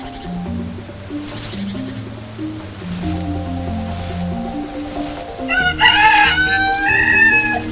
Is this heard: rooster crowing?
yes